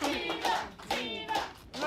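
People clapping and cheering nearby, rhythmic bursts of hand claps mixed with excited voices and chanting in a lively, fairly close group.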